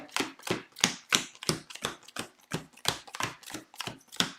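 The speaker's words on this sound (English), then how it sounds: "And then I'm just going to shuffle my deck" A deck of playing cards being shuffled up close, a quick run of about a dozen sharp riffling snaps in steady rhythm, crisp and distinct with brief gaps between each burst.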